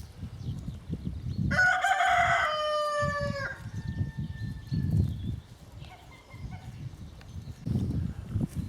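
A rooster crows loudly once, a long drawn-out call, among low clucking and shuffling from nearby chickens, including black Alsace hens.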